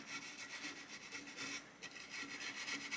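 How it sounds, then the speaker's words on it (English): Rifle muzzle brake is scrubbed with a brush to remove carbon buildup during barrel cleaning, a quiet rapid back-and-forth rubbing rasp close by, continuing throughout with a brief pause. "You're definitely not going to hurt anything by scrubbing that muzzle brake out."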